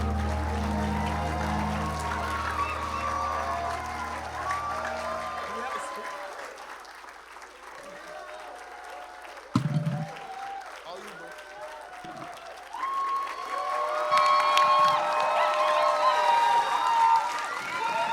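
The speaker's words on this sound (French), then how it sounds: "Can we give them a hand clap" A church congregation claps for a Sunday school presentation, loud applause with some cheering at first, fading into quieter scattered clapping and crowd murmur, then swelling again near the end.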